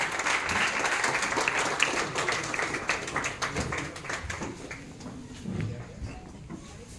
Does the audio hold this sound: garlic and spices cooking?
no